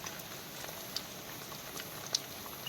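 Faint, steady monsoon rain in the Himalayan hills of Chamoli, Uttarakhand, hisses and patters throughout, with a couple of small drips standing out near the end.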